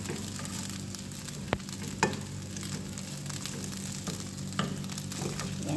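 Fried rice with chicken being stirred in a pan: a continuous soft sizzle with occasional sharp clinks and scrapes of a spatula against the pan, over a low background hum.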